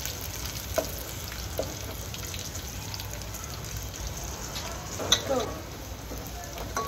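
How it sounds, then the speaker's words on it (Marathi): Garlic and green chilies roast in a pan with a soft, steady sizzle and faint frying crackle. A few brief clinks and stirring touches break through at intervals. "लसूण मिरची आपली चांगली भाजत आहे।"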